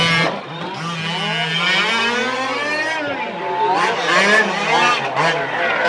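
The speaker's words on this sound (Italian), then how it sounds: "Entrata in derapata per Ciccio." A Losi 1:5 scale RC rally car slides into a corner at a rally race in Nizza di Sicilia, its small engine revving and whining through shifting pitches while a commentator talks over it.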